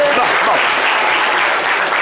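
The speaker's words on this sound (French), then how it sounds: "Applaudissez-le, encouragez-le." A studio audience applauds during a French-language talk show, a dense continuous wash of clapping and crowd noise lasting a couple of seconds, with possible voices blended underneath.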